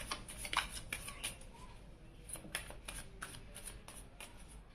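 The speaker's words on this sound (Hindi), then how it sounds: "अब चलिए आपके पर्सन के लिए भी कार्ड्स हम निकाल लेते हैं" Tarot cards being shuffled and drawn by hand, a soft, steady papery riffling with light flicks, close and fairly quiet, with no voice over it.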